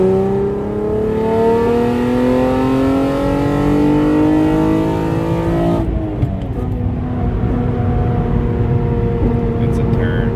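An Acura TL pulls hard through third gear on a highway, engine harmonics climbing steadily in pitch, then dropping sharply at a shift before rising again; loud and close from inside the car, with someone talking over it.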